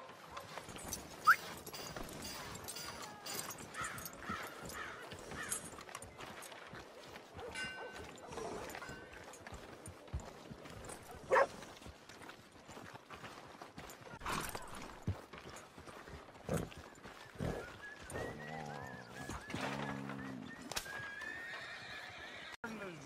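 A horse's hooves clip-clop in an uneven, moderately close rhythm, with occasional whinnies, faint metallic clangs and a person speaking over the top.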